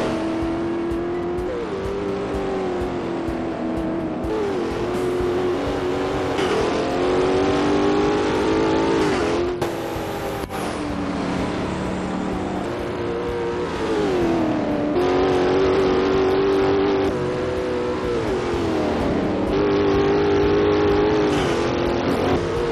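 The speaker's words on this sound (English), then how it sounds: "Watch the Bugatti and the GTR battle it out throughout this race." Bugatti and GTR supercars racing in a Forza video game, a continuous loud engine roar rising and falling through gear changes and accelerations, with brief lulls between hard revving pulls.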